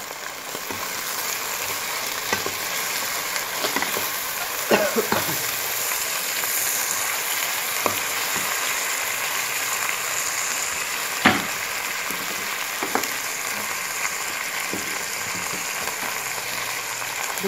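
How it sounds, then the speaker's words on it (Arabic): Cauliflower, potato cubes, peppers and onion sautéing together in a pan, a steady close sizzle and crackle with occasional clinks of stirring running unbroken throughout, no voices. "والبطاطس والفلفل والبصل، بشوحهم كلهم مع بعض تشويحة حلوة"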